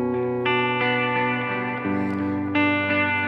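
Ambient guitar loop run through shimmer, delay and reverb effects pedals on a pedalboard, with sustained harmonic tones swelling in layered bursts, loud and continuous with no voices.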